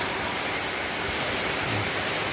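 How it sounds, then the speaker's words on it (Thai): Rain falls steadily at night, a dense, even hiss of drops on surfaces with no pauses and no voices. "ฝนตกครับ"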